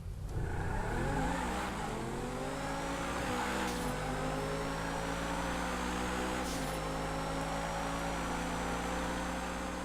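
Steady, loud engine roar of Adder and Turismo supercars racing in Grand Theft Auto V, with tones rising and shifting as they accelerate through gears, continuous for about ten seconds without talk.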